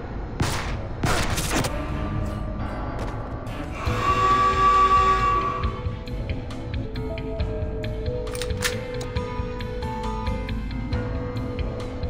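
Sharp gunshots crack out in the video game CounterSpy, a couple of loud ones early, then scattered shots and bursts under a steady game soundscape, with a mechanical whirring swell midway.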